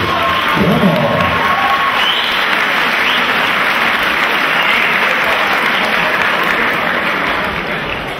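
At an amateur boxing event, a crowd claps and cheers continuously after a bout. The sound is a broad, steady wash of applause with some shouting mixed in, and it fades slightly toward the end.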